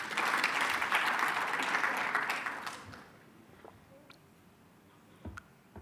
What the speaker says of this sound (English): So can we give another round of applause?